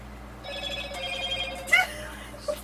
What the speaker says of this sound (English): Better answer your phone.